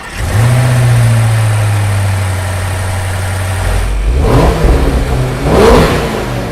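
A Range Rover SV with a 4.4-liter twin-turbo V8 drones steadily, then revs up with rising pitch in two loud surges near the end.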